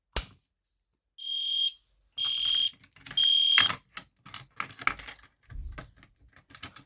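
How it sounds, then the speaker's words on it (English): An EST fire alarm horn sounds during a system test, three loud, close, buzzing blasts separated by short pauses, followed by clicking and mechanical rattling. "If I let go of it, it sounds off the alarm."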